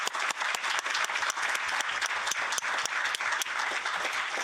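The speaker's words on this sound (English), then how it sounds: "can we give them an extra big applause before closing?" A large conference audience claps steadily and loudly at a closing event, dense continuous applause with crisp individual hand claps standing out throughout, no voices on top.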